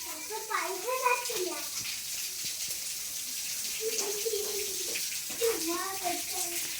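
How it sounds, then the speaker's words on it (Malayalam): Water splashes steadily onto freshly laid concrete beside a house under renovation, a continuous pouring wash with voices and child-like chatter breaking in over it. "ഞാൻ വെള്ളം ഒഴിച്ചു കൊടുക്കാം."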